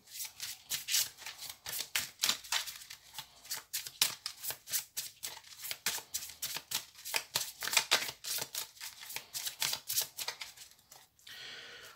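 Oracle cards riffled and shuffled by hand in fast, rhythmic bursts of crisp flapping, close and steady, easing into a softer brush at the end as the deck is cut.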